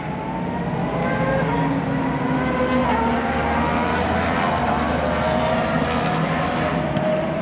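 Racing motorcycles lap the track at the Loudon Classic, a steady, loud engine drone heard from a distance, blending into a continuous roar without distinct passes or pauses.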